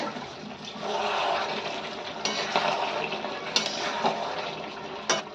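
Water splashes and pours steadily off a metal pot lid covering cooking chicken, with a few sharp clinks of the lid against the pot.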